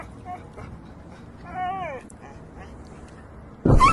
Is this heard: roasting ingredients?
no